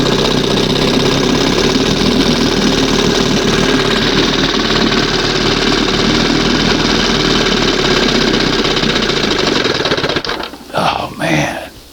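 An old Johnson 20 HP outboard motor runs steadily at a loud, constant idle with a dense mechanical rumble, then cuts off near the end as a voice speaks briefly.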